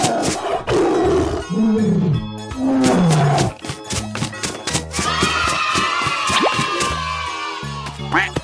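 A tiger roar sound effect sounds over upbeat children's music with tapping and dripping effects, the growling roar loud and up front.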